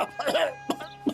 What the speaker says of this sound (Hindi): हमरा के बहुत जोर से खांसी सर्दी हो गई